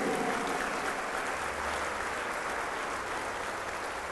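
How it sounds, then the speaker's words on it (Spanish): Large crowd applauding steadily for a Catholic preacher and singer during a talk on the Eucharist, a dense, even wash of many hands clapping throughout. "Un aplauso grande."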